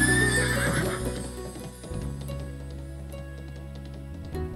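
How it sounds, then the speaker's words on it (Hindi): A mare neighs loudly in a long whinny, then hooves clip-clop in a steady rhythm close by. "बूंगरी भाई भी लीलन घोड़ी ने आवती देख और आडे कांकड़ दौड़िया"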